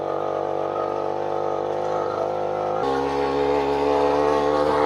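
An old East German DDR moped engine labours up a hill, a steady buzzing drone that holds its pitch, then shifts to a lower, heavier tone partway through as it keeps straining at close range.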